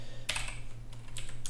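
Quiet clicking of a computer keyboard, a few quick bursts of keystrokes in short clusters, close and faint against a low background hum.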